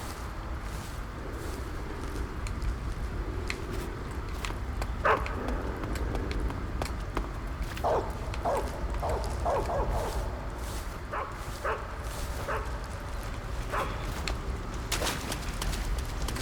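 Dogs in the Metal Gear Solid 3 video game bark and yip in short scattered bursts over a steady background ambience, with a few whimpering yelps mixed in.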